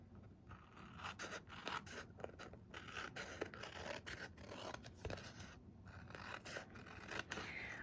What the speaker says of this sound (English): So let's grab some scissors and we can do that.